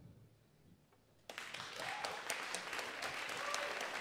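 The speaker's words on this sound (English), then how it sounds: "Can you clap?" An audience at a live jazz concert breaks into sudden, loud clapping after a quiet moment, keeping a steady rhythmic beat to hold the tempo with the band.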